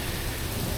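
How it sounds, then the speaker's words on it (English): Rain falls on the Texas coast during a spring redfish trip, a brief, steady, dense hiss with no talking. "This rain is supposed to pass."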